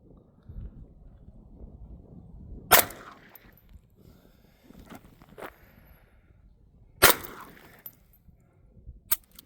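Two sharp, loud SIG Sauer P320 pistol shots fired outdoors at a refrigerant jug, spaced several seconds apart, with quieter rustling and footsteps between and a smaller crack at the end.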